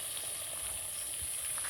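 Ghee sizzling softly as a spoonful goes into nearly finished mutton curry, a faint steady hiss with light crackle throughout, no voices.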